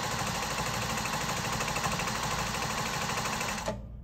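A Juki J-350 Miyabi sewing machine stitches at full speed with the pedal fully down, a fast, steady mechanical whir and needle chatter that stops abruptly at the end.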